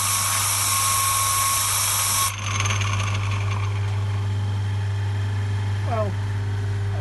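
A Manx DOHC cambox spun up on compressed air, a high steady hiss and whirring mechanical drone with a brief change in tone partway, sustained and close.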